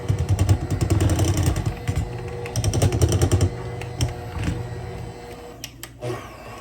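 Electric hand mixer beating banana cake batter in a bowl, a close, loud whirring buzz in rhythmic bursts with short pauses, then slowing to scattered clicks and taps.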